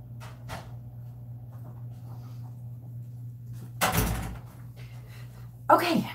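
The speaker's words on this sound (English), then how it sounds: "let me just open up my front door" A front door is pulled open with a short burst of rattle and scrape partway through, followed later by a brief knock or bump, over a steady low electrical hum.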